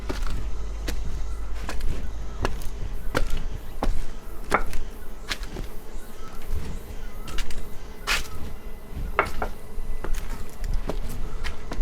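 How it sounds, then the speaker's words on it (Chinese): Many bees buzz steadily around an old stone stairway at an abandoned Arhat temple, a continuous insect drone broken by sharp intermittent clicks and knocks, with no talking. "好多的蜜蜂。"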